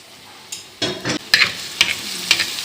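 Masala for a village-style karimeen (pearl spot) fish curry stirred and sautéed in a pan, with a few distinct scraping stirs and soft sizzling, close and moderately loud with no talk.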